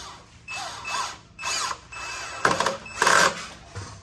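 A power tool tightening down upper deck seating slats, several short whirring bursts with pauses between, close and fairly loud, ending in a ratcheting rattle.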